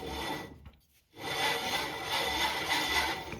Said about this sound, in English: You can hear friction